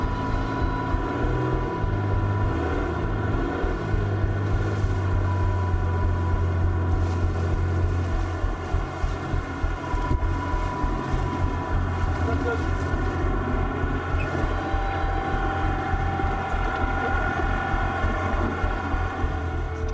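A customs boat on open water, its engine giving a steady low drone with broad wash and some wind noise throughout, continuous and fairly loud with no clear breaks.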